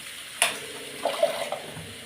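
Rinse water from a mixer jar splashes into a pan of potato fry with tomato: a sharp splash followed by a few softer trickles and spatters, close by and brief.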